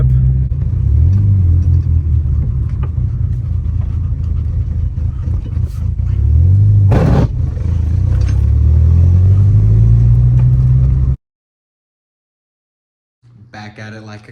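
VW MK4 Golf with a slammed stance drives along, a loud, steady engine drone and road rumble rising and falling through gear changes, then cutting out abruptly before a brief low hum returns.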